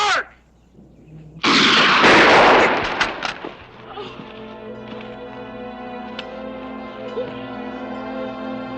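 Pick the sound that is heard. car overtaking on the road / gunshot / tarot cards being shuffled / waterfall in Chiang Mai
gunshot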